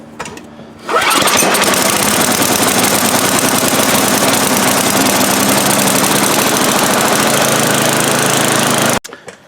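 A snow blower's small engine starts on a pull of the cord with the choke on, catches after a brief rattle, and runs loud and steady for several seconds before cutting off abruptly.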